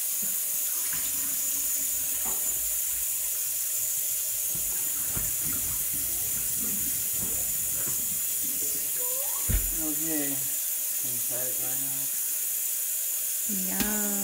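Tap water runs steadily into a sink while a Thanksgiving turkey is rinsed, a continuous close hiss with faint voices and clinks underneath.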